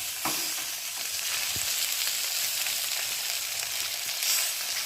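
Rohu fish frying on a tawa gives a loud, continuous sizzle and crackle with a few brief pops, heard close and alone without any talk.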